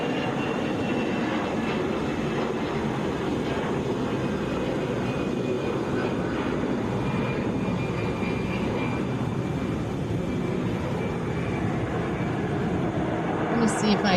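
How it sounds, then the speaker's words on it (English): A Delta Airbus A320 jet rumbles with a broad, steady roar at an Atlanta airport, holding level and loud for the whole stretch with no talking over it. "Airbus A320."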